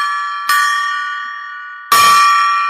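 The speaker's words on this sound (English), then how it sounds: "Let's ring the gong." A golden gong struck twice, each hit a loud shimmering metallic crash that rings on and slowly fades before the next strike.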